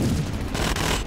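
Cannon fire in a video game battle with an assault barge and turrets: a dense, noisy burst of booming gunfire rumbling continuously, loud and close, with no clear pauses.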